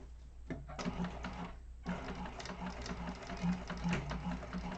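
Sewing machine basting fabric for a Deskasow organizer bag, a steady mechanical whir with rapid stitching ticks running continuously, close and moderately loud, with a brief pause near the start.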